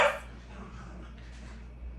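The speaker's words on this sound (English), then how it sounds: "Don't mind my dogs. They like to tussle." Dogs tussling at play give one short, sharp bark at the start, followed by faint rustling and low indoor background noise.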